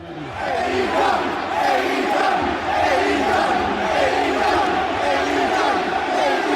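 A large arena crowd at a WWE pay-per-view main event chants in unison in Sacramento, rising quickly to a loud, rhythmic, sustained roar of voices that carries steadily to the end.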